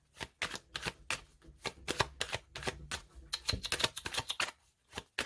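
A deck of oracle cards is shuffled and cut, giving a rapid, irregular series of crisp riffling flicks and slaps, close and clear without talk.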